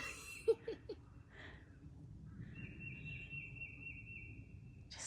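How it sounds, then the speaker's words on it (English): A few faint bird calls and a thin sustained whistle-like song drift over a quiet park wetland trail in Lexington, North Carolina, distant and soft against low background rumble. "Just listen to the birds."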